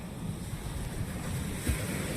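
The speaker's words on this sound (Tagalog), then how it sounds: "medyo malaki ang alon dito sa Bukana guys" Steady wash of ocean surf breaking on shore at Bukana, with a broad hiss and low rumble, and one heavier wave thump near the end; no voices.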